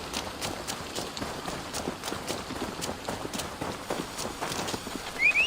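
Horse hooves clip-clopping in Assassin's Creed Valhalla, a steady run of close, crisp hoofbeats with an occasional whinny over faint game ambience.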